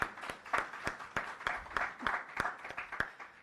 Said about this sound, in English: Another round of applause for Mr. Mills.